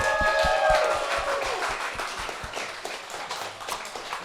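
Pub quiz crowd claps in a fairly dense burst of applause after reaching the final round, fading gradually with a few voices mixed in.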